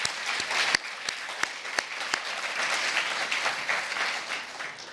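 An audience applauds steadily for a guest at a high-level intergenerational dialogue event in Kenya, dense clapping with a few sharper, louder claps standing out near the start, sustained evenly throughout.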